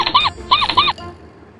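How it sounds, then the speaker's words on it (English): A rat gives three quick high squeaks in a row, close and clear, followed by a faint quiet tail. "Rat, this is a rat."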